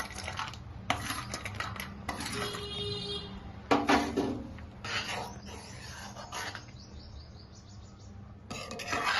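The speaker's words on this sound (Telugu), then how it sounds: "ఇప్పుడు వేయించి పెట్టుకున్న డ్రై ఫ్రూట్స్ వేస్తున్నాను" Fried dry fruits dropped into a pot of semiya payasam, with several clinking spoon-on-metal scrapes and stirring knocks in uneven bursts, close by, separated by short quiet gaps, no talking.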